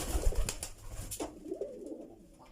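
Pigeons coo softly inside a loft, a few low, rounded calls mixed with faint rustling and shuffling. They sound close but quiet, with no talking.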